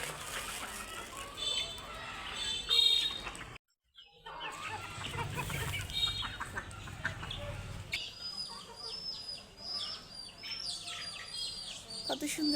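Several backyard chickens cluck and peep close by while being let out and fed, with steady rustling and movement around them, the calls scattered and fairly loud throughout.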